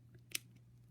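Wire cutters snip through thin jewelry wire while a wrapped loop is finished on a beaded earring, a single short, crisp close-up click standing alone against a faint background hum.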